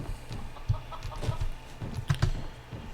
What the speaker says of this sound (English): I'm pretty sure that chicken doesn't have any work for me